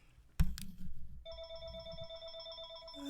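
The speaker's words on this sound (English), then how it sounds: "I'm getting a phone call." A telephone rings with a sharp, repeated electronic tone that starts after a brief knock and continues steadily to the end, clear and fairly close, with no talking.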